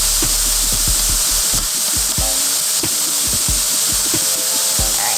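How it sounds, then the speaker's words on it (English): Jambalaya ingredients sizzle and fry steadily in a pan, a loud continuous hiss with scattered pops and crackles, heard alone and close without any talking. "So while this is doing its start sizzle, I just want to spread it out in the pan so that it can evenly cook."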